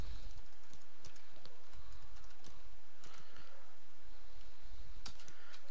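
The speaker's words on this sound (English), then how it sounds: "I'm going to type in my name." Name typed on a computer keyboard during a Debian 6 Squeeze install in VMware, a quiet, uneven run of close clicky keystrokes with small pauses over a low background hum.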